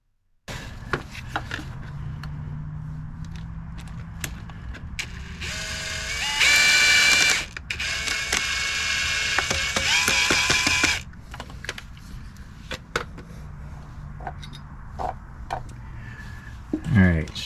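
Ratcheting, clicking mechanical sounds of a fitting on a Webasto heater in an RV or van being tightened by hand, with bursts of louder buzzing drill in the middle, close by and under talk.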